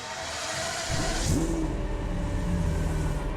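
Pagani Zonda F supercar engine in a video game, starting from a low idle hum, then revving up in a rising, sweeping tone and settling into a steady drone, fairly close, with no talk.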